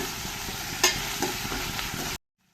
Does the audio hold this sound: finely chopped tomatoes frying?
yes